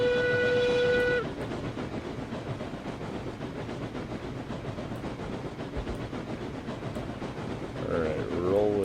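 A steam locomotive in the RailRoads Online game lets out a whistle blast, then rolls along the rails with a steady rumble and clatter. A second, rising whistle comes near the end.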